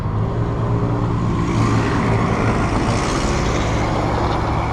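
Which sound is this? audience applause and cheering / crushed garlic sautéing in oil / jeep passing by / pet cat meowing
jeep passing by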